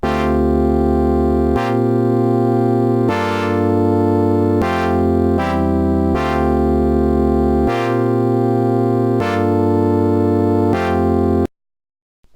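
Serum synth pad patch voiced like a Hammond organ hit, playing a sequence of sustained, harmonically rich chords that change roughly every second and a half, loud and alone, stopping abruptly before a short silence.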